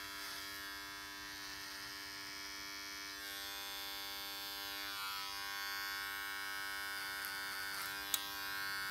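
Electric beard trimmer buzzes steadily and close with a constant hum while cutting beard hair during a full beard trim and line-up, with brief shifts in tone as it moves.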